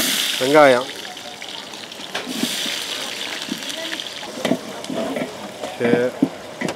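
Onions and mustard seeds fry in hot oil in a village pan for goat intestine fry, a steady sizzle with stirring scrapes and occasional louder splutters, while a voice talks intermittently over the cooking.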